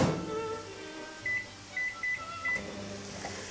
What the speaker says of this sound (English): I'm going to do the cheats version and just warm it up in the microwave